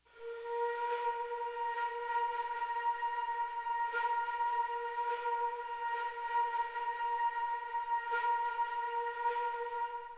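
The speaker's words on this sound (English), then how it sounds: "I've also got this little woodwind patch from the Pool Project, another textural thing." A quiet woodwind patch from the Pool Project holds a steady breathy sustained tone with faint textural flutters, soft and continuous with no speech.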